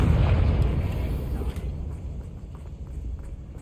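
A Confringo blasting spell explodes in the Hogwarts Legacy video game. A loud, deep boom opens the sound and fades into a low rumble with faint background game noise.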